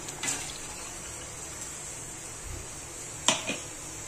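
Faint, quiet water pouring into a cooking pot of roasted masala for matki misal, with a couple of sharp metallic clinks and a low background hiss.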